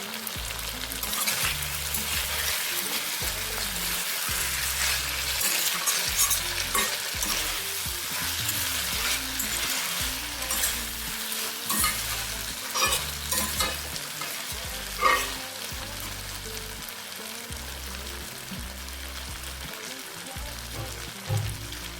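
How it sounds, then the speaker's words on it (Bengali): Vegetables fry with spices in a pan for a Bengali village shukto, a continuous soft sizzle broken by repeated scraping and stirring strokes at a steady, unhurried rhythm, heard close and with no voices. "এই মশলার সঙ্গে সবজিটাকে কিছুক্ষণ কষানো হয়ে গেলে তারপর জল দেবে।"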